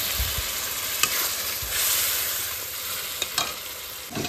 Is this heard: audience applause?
no